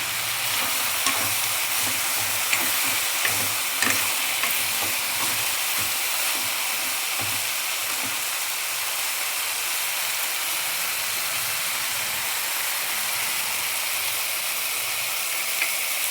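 Sliced okra, half a kilo of it, sizzles in a hot pan for a tamarind-style okra curry, a loud, steady frying hiss that keeps going throughout with occasional stirring ticks.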